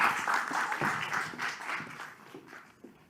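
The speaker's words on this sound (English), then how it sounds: "So please give a big applause for Oane." Brief, moderate applause from a theater audience welcoming a speaker at an agriculture technology forum, scattered clapping that fades within three seconds.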